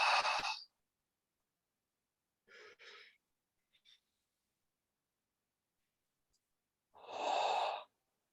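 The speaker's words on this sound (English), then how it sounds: "do big, big inhales, the biggest ones. And you could exhale through your mouth" Slow deep breathing during a guided tantra relaxation exercise: a loud close breath at the start, a softer double breath in the middle, a faint short puff, then a long full exhale through the mouth near the end, separated by silence.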